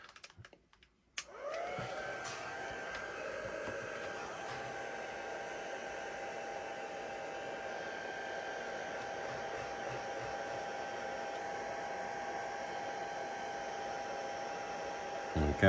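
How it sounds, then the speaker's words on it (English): Heat tool drying a watercolour Christmas card, starting after a brief click and then blowing as a steady, loud whirring hiss with a constant tonal whine that holds unbroken to the end. "I'm going to use my heat tool just to speed things up"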